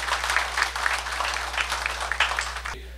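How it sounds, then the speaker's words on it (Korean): A church audience applauds steadily for about three seconds after a call to encourage one another, a broad even patter of many hands that drops off abruptly near the end. "박수로 한번 서로 격려하십시오"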